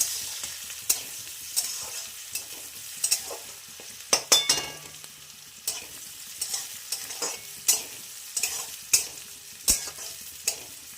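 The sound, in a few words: chopped onions frying in mustard oil in a wok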